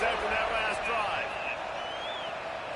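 Steady roar from a packed college football stadium crowd at a UCLA at Arkansas game, cheering after a scoring drive, dense and continuous at moderate level with no distinct voices standing out.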